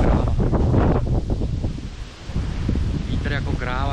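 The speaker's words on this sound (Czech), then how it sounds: "Vítr jako kráva, něco se na mě žene." Strong winter wind buffets the microphone outdoors by water during a carp fishing trip, a loud continuous rumble with gusts, while a person talks over it.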